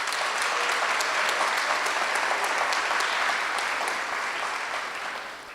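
Dense, even applause from an audience at a leadership program graduation, loud and sustained, easing off slightly toward the end.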